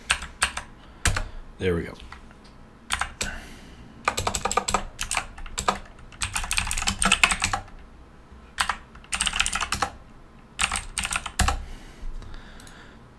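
Fingers type in bursts of rapid clicks on a computer keyboard during network device setup, close and fairly loud, with short pauses between runs and a brief spoken remark.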